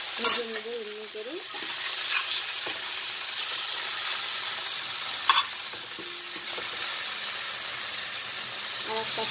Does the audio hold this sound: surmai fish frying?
yes